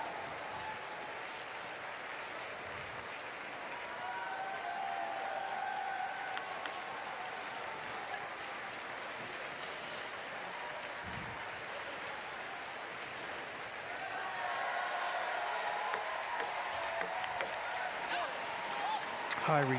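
Stadium crowd applauding at a para table tennis standing doubles match, a steady wash of clapping that swells louder toward the end, heard with a commentator talking over it.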